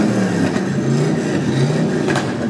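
A Jeep's exhaust revs hard at a car show exhaust-rapping contest, a loud, close, steady engine roar filling the whole stretch with no pauses.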